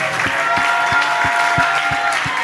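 A church congregation applauds during prayer, with a steady wash of many hands clapping and regular low thumps roughly every third of a second.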